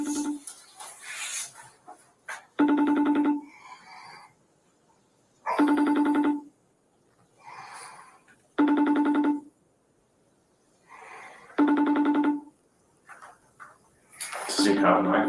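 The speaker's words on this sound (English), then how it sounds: "So I'm gonna dial his number up." Phone call going out: repeated ringback tones in regular bursts about every three seconds, clear and fairly loud, with people talking in between the rings.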